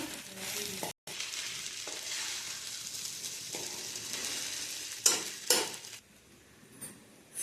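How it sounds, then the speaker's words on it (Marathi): Sabudana khichdi mixture stir-fried in a kadai sizzles steadily, with spatula scrapes and clinks breaking through near the end and a brief gap early on. "सगळं मिश्रण आपण कढईमध्ये टाकूयात पटपट साबुदाणा खिचडी आपण परतून घेऊया"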